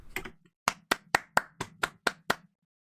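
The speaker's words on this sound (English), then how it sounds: "Round of applause." A single person claps slowly and loudly at close range, eight sharp, evenly spaced hand claps in a deliberate rhythm, with a brief soft sound just before them.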